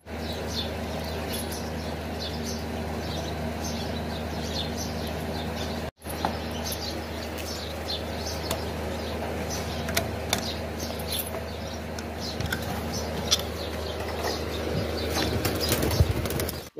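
Pigeons taking off and flapping their wings, a dense, continuous fluttering rustle with scattered chirps and coos, moderately distant, with a brief cut near the six-second mark.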